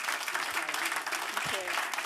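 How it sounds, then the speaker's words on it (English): Audience applause for a panel at a transport decarbonisation event, a continuous wash of clapping with some voices mixed in. "Can we have a round of applause for our fantastic panel?"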